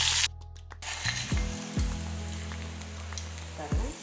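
Shallots and curry leaves spluttering in hot oil for a tempering poured over a chilli-onion chutney: a steady sizzle with a few scraping stirs, close by, and no talk.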